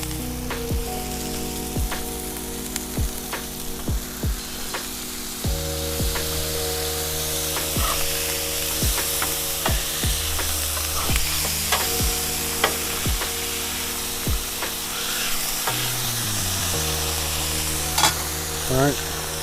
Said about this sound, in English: Toast my rolls, my brioche rolls.